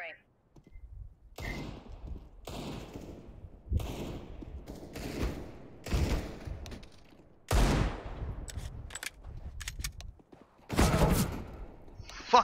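Bursts of gunfire crack out in a video game, several separate volleys spread through the stretch with short gaps between, loud and close, while people talk over them.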